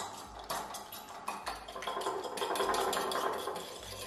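One egg is whisked in a bowl for a popcorn chicken batter, giving quick, rhythmic taps and scrapes of the whisk against the bowl. The sound is close and steady, with no talking.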